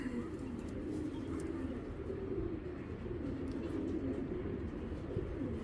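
A large female Giribaz pigeon at a pigeon farm coos in low repeated bursts, close and fairly faint, over a constant background hum of the coop.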